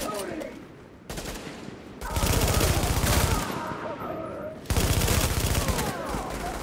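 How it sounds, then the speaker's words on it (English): Bursts of automatic gunfire in a Predator video game, loud and near, coming in rapid volleys separated by brief pauses, with heavy low thumps under the crackle. "Let me just shoot you once here real quick."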